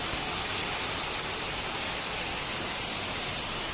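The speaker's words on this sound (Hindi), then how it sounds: "अब देख सकते हो कितनी ज्यादा बारिश पड़ रही है" Heavy rain that has kept falling for days pours down in a dense, steady hiss, loud and unbroken with no voices over it.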